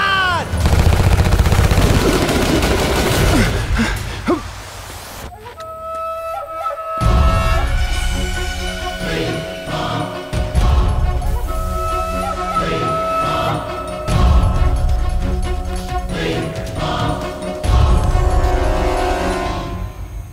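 Gunfire in a Hindi action movie scene: loud, dense bursts of shots crackle for the first few seconds, then give way to a dramatic music score with a few more sharp hits.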